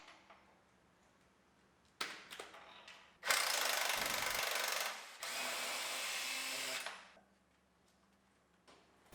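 Power tool, likely an impact wrench, unbolting a truck radiator support from the frame: two loud bursts of a few seconds each, close up, between quieter shop noise.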